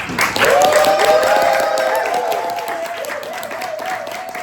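A crowd at a nursing and sexual health clinic grand opening applauds and cheers loudly, with a few shrill whoops riding above steady clapping that gradually fades.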